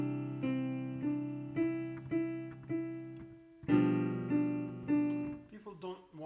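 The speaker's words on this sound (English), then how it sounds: "if you play both lines, forte or mezzo forte, they will sound something like this" A piano plays a simple melody over repeated chords, both at a moderately loud, even volume, so the chords press as hard as the tune; notes strike in a steady rhythm and decay, ending in a quick run.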